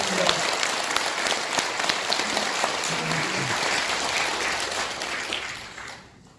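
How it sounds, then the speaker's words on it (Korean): Sustained audience applause at a conservative political forum event in Korea, a thick wash of many hands clapping loudly and evenly before trailing off near the end. "박수 부탁드리겠습니다."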